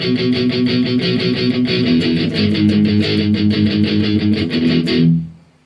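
Distorted palm-muted electric guitar playing the intro riff of a song, a tight chugging rhythm of rapid muted hits, loud and alone, ending on a ringing note that fades.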